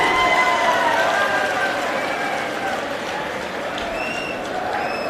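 A crowd at a political rally in Bhiwani, Haryana claps loudly and continuously, a dense wash of applause that eases slightly midway and carries on steadily with faint tonal music underneath.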